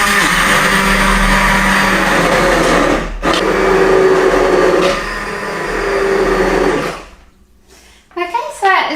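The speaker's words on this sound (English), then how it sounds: "that's why I'm using an immersion blender, so I'm keeping it in this pot" An immersion blender blitzes hot vegan soup in a pot, a loud, steady motorized whir with brief pauses, then it stops and a person begins talking.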